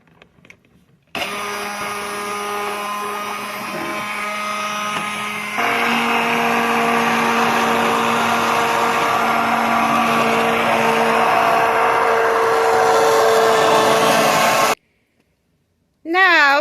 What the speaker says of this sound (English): Now, we have our blender, and we are going to blend this right up.